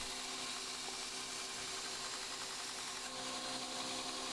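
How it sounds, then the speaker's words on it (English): Belt grinder grinding the bevel of a forged Francisca battle axe bit, a steady unbroken abrasive hiss and whine that runs at even level throughout, close and alone with no talk. "we just have to grind off a little bit to complete that bevel"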